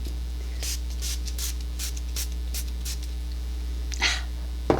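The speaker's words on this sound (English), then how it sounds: "I like the aerosol of the Morphe because it's so quick and easy. Okay, now we're going to use the spray." Morphe Rainforest aerosol makeup setting spray hisses in a series of short, evenly spaced bursts close by over a steady low hum, ending with a louder burst.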